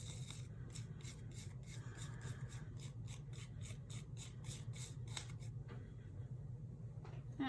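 A brush burnishes gilded leaf into adhesive, giving soft, steady rubbing and rasping strokes in a quick repeated rhythm, close and fairly quiet throughout with no talking.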